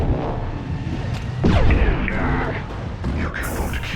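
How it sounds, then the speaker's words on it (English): Heavy weapons fire in Mass Effect 2, a loud burst of booming shots and impacts mixed with game effects, with speech from in-game characters running over and around it. "Taking heavy fire!"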